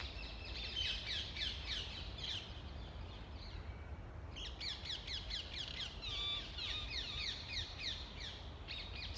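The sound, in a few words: birds singing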